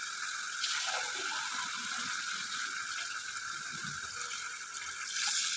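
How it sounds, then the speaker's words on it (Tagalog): Water runs steadily from a tap into a pot of chicken for pininyahan, a continuous close hiss and splash with faint clinks underneath. "Lagyan natin ng tubig."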